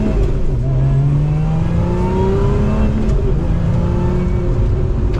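A 2024 Lotus Emira Touring First Edition sports car's engine revs in sport mode, a loud continuous drone that climbs in pitch through the gears, heard from inside the cabin with no talking over it.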